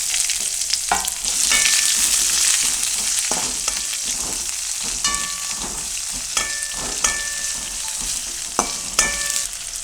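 Onion, crushed garlic, chillies and spices fry in hot oil for a sambar tempering, a constant bright sizzle with scattered clinks and scraping of a stirring spoon against the pan.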